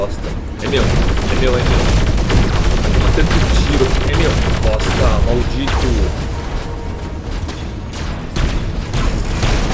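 Loud, sustained volleys of machine-gun fire and booming impacts from robot combat in the War Robots game on PC, a relentless barrage that eases slightly near the end, with someone speaking excitedly over it.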